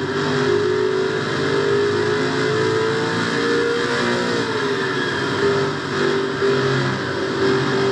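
A race car in a Castrol GTX Cup Series sim race holds a loud, continuous engine drone close up, its pitch rising and dipping through a turn as the throttle is worked, with no talk.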